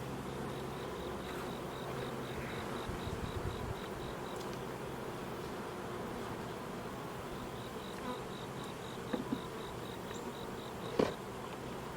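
Honey bees buzz continuously close by at an opened hive, a dense droning hum with occasional louder passes and faint clicks, no voices.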